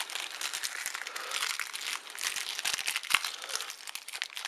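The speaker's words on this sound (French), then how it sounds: "Alors, on déballe, on sort tout de la boîte" Cardboard and plastic packaging crinkle and rustle up close as a Turbine Master CM bundle is unpacked from its box, with sharp crackles and a few soft thumps.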